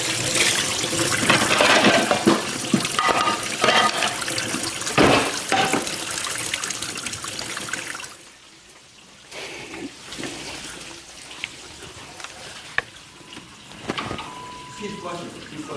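Water runs hard from a sink tap for several seconds, splashing loudly up close, then stops; quieter room sounds and voices follow.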